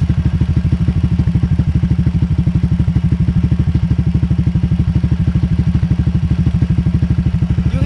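A Honda Click 125 V3 scooter idling through a T4S aftermarket exhaust pipe, a loud, close, steady rapid thumping putter that stays even throughout.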